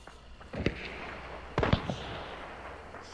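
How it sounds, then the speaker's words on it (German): Two clusters of sharp, distant gunshot pops, a few cracks each, over a steady low background hum in a Hunt: Showdown game scene. "Schüsse etwas weiter links und etwas weiter rechts von uns."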